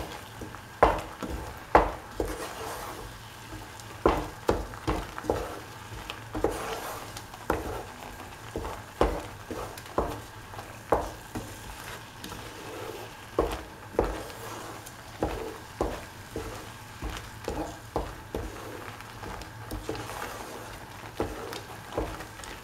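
A mixture for a banana yogurt bowl being sautéed and stirred in a pan, with a soft steady sizzle beneath repeated scraping and tapping strokes of a utensil at an even, unhurried rhythm throughout.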